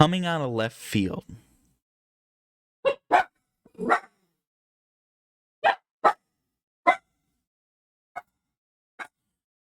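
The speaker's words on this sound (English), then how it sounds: "Sorry about the dog." Someone talks briefly, then a dog barks from somewhere nearby in a room, about eight sharp separate barks spread irregularly over the following seconds with silence between them.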